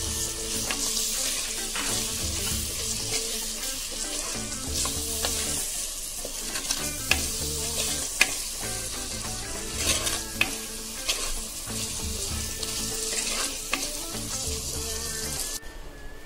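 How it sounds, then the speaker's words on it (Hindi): Steady, loud sizzling of spices frying in a hot pan, with occasional stirring and scraping sounds throughout, no voices. "मसाला, इसे अच्छी तरह से भून लेंगे।"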